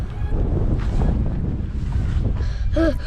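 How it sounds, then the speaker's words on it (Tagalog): Strong outdoor wind buffeting the microphone in a continuous loud roar, with no talk over it. "Grabe ang windy."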